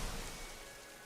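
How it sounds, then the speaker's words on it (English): Rain falling in the video game Limbus Company, a faint, steady wash of broadband hiss with no distinct drops, alone and quiet throughout. "Red rain falls from the sky, enveloping her."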